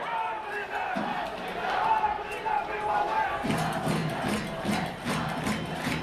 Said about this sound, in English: And a good crowd tonight, Carl.